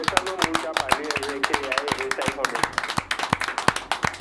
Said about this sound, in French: Ah, mais nous applaudissons,